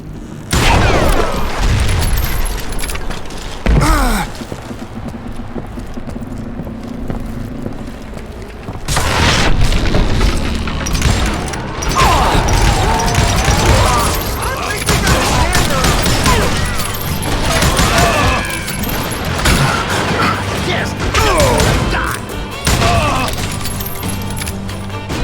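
Dynamite blasts in the Western shooter Call of Juarez Gunslinger, heavy booms with rumbling debris and gunfire-like crackle spread across a loud, busy game mix, with a voice talking in places.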